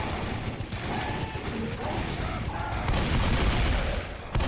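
Rapid gunfire rattles continuously in the zombie shooter Left 4 Dead 2, loud and dense, with bursts blending into a sustained fusillade and a sharp crack near the end.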